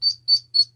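A rescued wild duckling, kept indoors, gives three clear, high, evenly spaced peeps, sharp and close in an otherwise quiet room.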